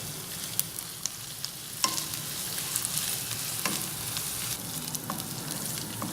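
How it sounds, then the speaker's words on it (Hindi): Ginger garlic paste fries in a pan for a mutton curry, a steady close sizzle with occasional sharp clicks and scrapes as it is stirred. "अब इसमें अदरक लहसुन का पेस्ट ऐड करेंगे। इसको अच्छी तरह भून लें।"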